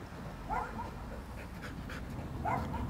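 A female dog searches and pants steadily nearby, with a couple of brief whimper-like vocal sounds over the breathing and a low background rumble.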